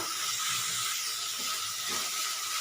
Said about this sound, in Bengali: চিংড়ি মাছটা একটু ভালো করে ভেজে নেব